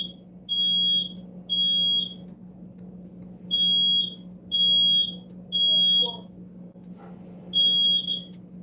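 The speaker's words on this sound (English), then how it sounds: "Smoke alarm." A smoke alarm shrieking in repeated piercing beeps, roughly one per second with short gaps, loud and close over a low steady hum.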